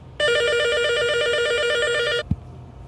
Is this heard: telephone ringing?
yes